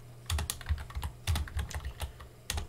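Someone types on a distant computer keyboard in a quiet room, producing short bursts of faint, crisp key clicks separated by brief pauses.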